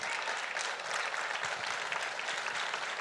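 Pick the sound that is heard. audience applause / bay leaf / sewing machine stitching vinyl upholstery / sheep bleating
audience applause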